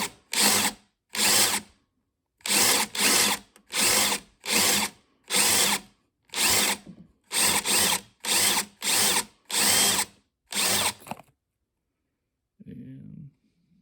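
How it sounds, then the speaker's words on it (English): A power drill drilling out rivet heads on a Foxbody Mustang door to replace the weatherstrip: about a dozen short, loud whining bursts in an even rhythm, close up, then silence with a brief murmur of speech at the end. "and then we'll get that one drilled out"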